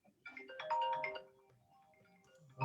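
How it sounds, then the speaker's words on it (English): A phone rings with an incoming call, a short melodic ringtone of bright stacked tones that swells, then fades into a softer tail, with no one speaking over it. "Phone call coming in."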